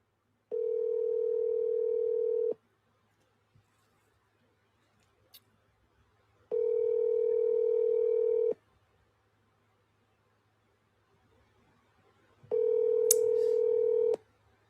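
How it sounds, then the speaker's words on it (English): A telephone ringback tone heard over speakerphone. It plays three long, steady buzzing tones of about two seconds each, separated by roughly four seconds of near silence. "and give Dave a phone call."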